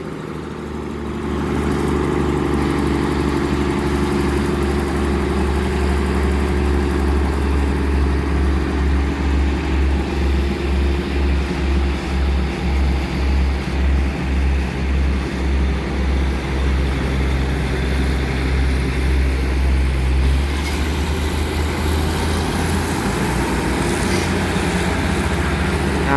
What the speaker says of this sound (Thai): รถกำลังเร่งเครื่องออกนะ